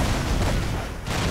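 Ship cannons fire in the fifteenth-century Mediterranean trading game Rise of Venice, a loud, sustained wall of booming, crackling blasts with a brief dip before it surges again, with no talk.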